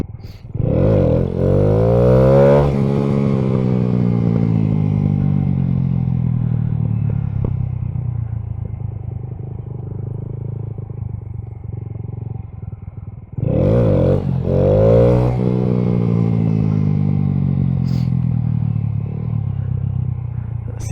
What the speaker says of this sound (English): I'm just letting the engine brake go down sometimes whenever I get too high.